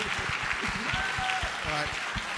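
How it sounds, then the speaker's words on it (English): An audience at a hip hop film festival Q&A claps in a short, scattered burst of applause, close and moderately loud, with voices talking over it. "let's give a round of applause again"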